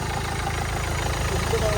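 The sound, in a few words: used car engine idling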